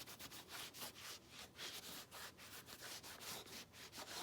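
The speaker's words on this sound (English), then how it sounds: "I'll wipe it down with a damp rag first" Damp rag wiping a leather shoe, quiet close rhythmic rubbing strokes repeating about every quarter second, with nothing else heard.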